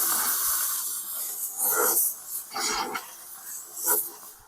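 Vivibyan steam cleaner releasing pressurized steam while cleaning around edges, a steady hiss with several louder surging bursts over a few seconds, close and fairly loud.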